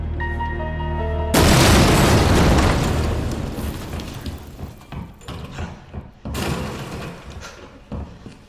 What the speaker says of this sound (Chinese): 你听到啲爆炸声